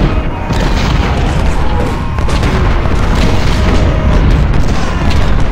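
Cannon fire in the Civil War battle game Ultimate General: Civil War rumbles as a loud, dense wall of booms that carries on for several seconds.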